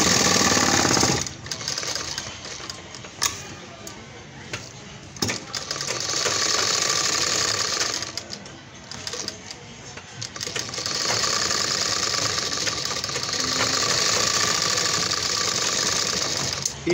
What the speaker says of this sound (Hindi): अब इसकी सिलाई हम यहाँ तक लेके आएंगे जहाँ तक ये गला है।